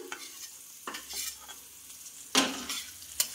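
Food frying in a pan while being stirred during home cooking, a low continuous sizzle broken by several distinct scraping stirs and clatters of the utensil against the pan.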